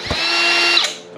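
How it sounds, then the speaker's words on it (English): A power router trims fiberglass edges with a loud, steady high-pitched whine held for about a second, close up, tailing off as it spins down. "I'm gonna router these edges and get sanding."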